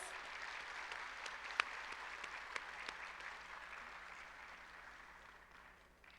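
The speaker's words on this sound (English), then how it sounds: "So they deserve a big clap from all of us." Sustained applause from an audience at a college cultural programme, a dense wash of clapping that holds steady, then gradually fades toward the end.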